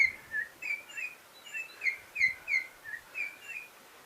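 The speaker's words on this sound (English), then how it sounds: "And then the bluebird." A singing bird device plays a bluebird call: about nine short, clear chirping whistles in an even rhythm, fairly faint against a quiet background.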